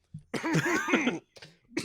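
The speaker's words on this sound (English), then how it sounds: "Just clear my throat." Someone clears their throat with a gruff, rasping burst, followed by a shorter second rasp and the start of a third, close and fairly loud.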